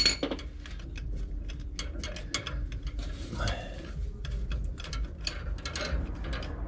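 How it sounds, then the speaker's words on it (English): Rapid ratchet clicks from a wrench working loose transmission bolts on a 1977 Ford F-250 with a C6 transmission, in irregular bursts over a low steady background hum. "All right, all bolts have been extracted on the passenger side of the transmission."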